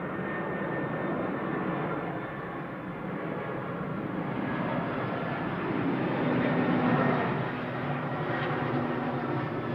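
An easyJet jet aircraft at Manchester Airport produces a loud, steady engine roar that swells slightly midway and continues throughout with no talk.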